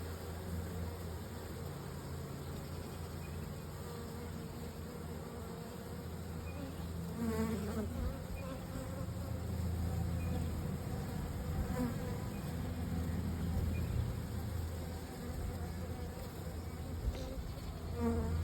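A swarm of honeybees moving into a box, a dense continuous buzzing hum of many insects close by, steady and moderately loud throughout, with a slight swell midway and no speech.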